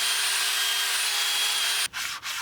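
Sandpaper scuffs the brake shoes of a 1964 Ford Fairlane in a steady, continuous rasping rub that runs close and loud, then breaks off with two short pauses near the end.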